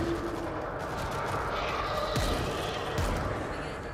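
Shotgun blasts in the World War Z zombie shooter, a few sharp booming shots spaced about a second apart over a dense bed of game noise and clatter.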